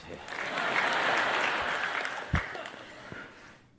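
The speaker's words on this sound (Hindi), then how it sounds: "आपने किस बात पर ताली बजाई मुझे पता नहीं है" An audience at a spiritual discourse applauds in a steady wash of clapping that swells and slowly fades, with a sharp thump partway through and a few murmurs near the end.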